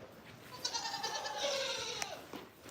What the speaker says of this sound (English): I went from having almost no gold goats, and now at this point I have a lot of gold goats